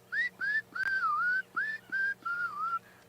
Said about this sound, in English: If you hear that noise, it sounds like somebody sort of whistling casually in the bushes.